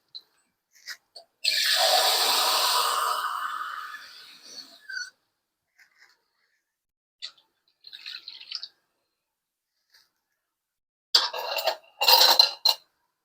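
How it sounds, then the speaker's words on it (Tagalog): Water splashes into a pot of chicken in a steady pour for a few seconds, then fades; later come a few scattered clinks and rattles of cookware. "lalagyan natin siya ng tubig guys. para maluto yung manok"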